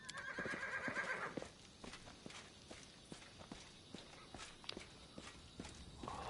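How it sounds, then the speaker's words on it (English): Horses in the video game Pathfinder: Kingmaker give a loud whinny, then hooves clip-clop in a steady rhythm, with another neigh rising near the end. "Oh, those horses are so loud."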